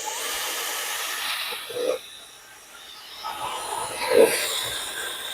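Portable rechargeable travel fan switched on and running, a steady whirring hiss with two brief louder bumps as it is handled or changes speed, close to the microphone.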